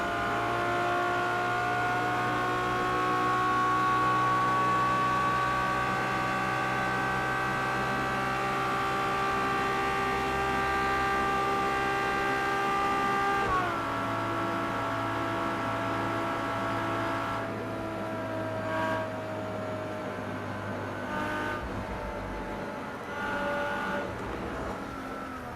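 Steady, close, high-revving roar from a LaFerrari racing flat out on the Nürburgring in Project CARS 2 with a damaged car; around the midpoint the pitch drops sharply as it slows, then fades into quieter engine noise with brief bursts.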